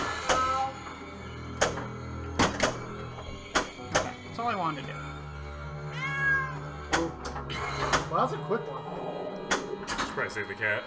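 Synthesized cat meows ring out from an Alien pinball machine (Heighway, 2017), mixed with flipper clacks, bells and game tones, while players talk over the noise.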